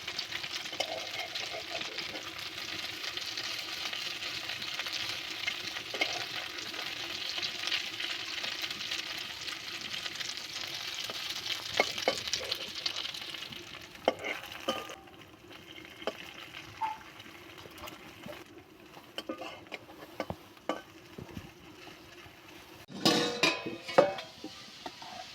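Egg and potato snack frying in a pan over low heat, a steady soft sizzle through the first half, then quieter with scattered scrapes, clinks of a utensil against the pan and a louder burst of clatter near the end.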